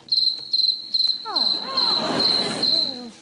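A high-pitched electronic chirping buzzer on a TV quiz show beeps rhythmically in short repeated bursts, while a squealing, warbling sound rises and falls over it.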